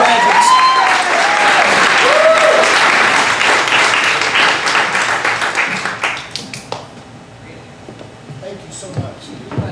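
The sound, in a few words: audience applause for graduates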